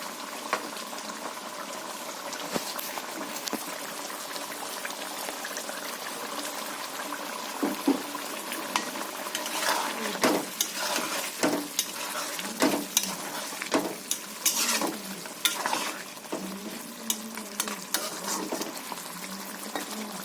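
Spinach and chickpea lentil fritters frying in a spicy potato curry, a continuous bubbling sizzle with scattered clinks and stirring scrapes growing busier as the fritters go in.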